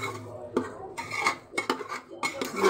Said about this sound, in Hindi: अभी हमारी तोरी भुन रही है धीरे धीरे